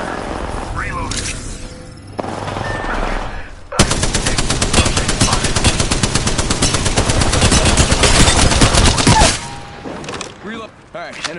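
Loud, sustained automatic gunfire in the video game Apex Legends, a dense burst of rapid shots running several seconds, preceded and followed by quieter game sounds and voice lines.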